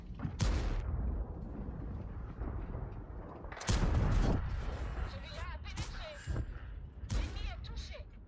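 Cannon fire from a Bourrasque premium tank in a tank battle video game, several sharp booming shots spaced a few seconds apart, loud and close, heard under a player's talk.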